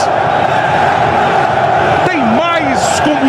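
Corinthians fans in the stadium roaring after a goal against São Paulo, a dense sustained crowd noise with a commentator talking over it toward the end.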